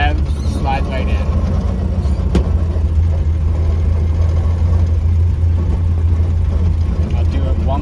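A 1930 Ford Model A engine runs steadily and close, with a brief rev blip as the driver clutches into neutral and downshifts while slowing.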